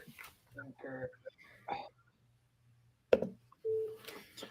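A telephone line rings during a live sales cold call, with repeated steady tones between bursts of nearby talking.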